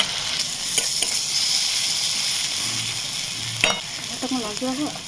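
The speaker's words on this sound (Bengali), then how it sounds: "এবার মশলাটা একটু ভালো করে কষিয়ে নেবো" A spice masala of turmeric, cumin, coriander and Kashmiri chili powder sautés in a pan, hissing steadily with a few sharp spatula scrapes and clicks.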